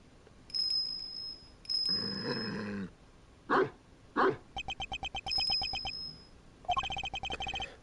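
Small bell tinkling on an animal's neck in the game Ace Attorney Investigations 2, heard in repeated bright jingling bursts alongside game tones and thuds, with no talk.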